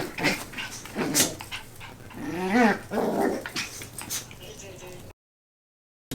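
Cockapoo puppies give close, intermittent growls and whimpers, with rising whiny yelps between low grumbles, and human voices mixed in before it cuts to silence.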